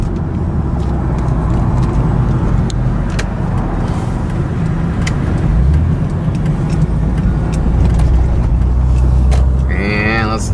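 Cars on Schoenborn Street pass with a continuous low engine and tyre rumble that swells and fades around the middle, near and loud, under a person talking.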